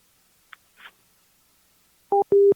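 A telephone busy signal after a call is hung up, two loud steady tone pulses near the end following a couple of faint clicks and a rustle in otherwise silent air.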